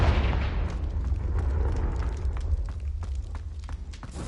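Confringo fire spell in the video game Hogwarts Legacy, a low rumbling explosion bursting at the start and fading into crackling debris and a few small pops.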